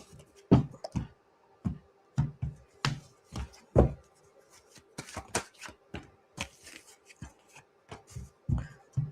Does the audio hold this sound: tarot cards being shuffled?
yes